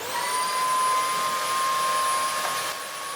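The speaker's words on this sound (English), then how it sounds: "I'm just going to vacuum all this top up" A vacuum cleaner runs continuously while cleaning the top of a filter, giving a steady high-pitched motor whine with a sustained airy hiss, close and even throughout with no talking.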